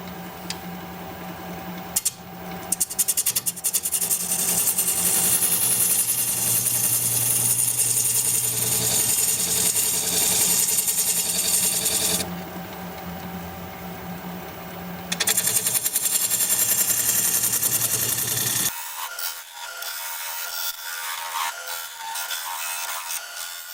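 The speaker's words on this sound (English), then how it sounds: "I'm going to use a 3/8 inch gouge to make that tenon." 3/8 inch gouge cutting a tenon in olive wood spinning on a lathe, a loud rough scraping chatter with an underlying motor hum, breaking off in pauses before the lathe hums on alone.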